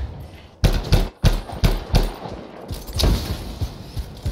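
Rapid bursts of gunfire in the video game Anthem, a string of sharp close shots and thuds in uneven rhythm over a few seconds, with no talking.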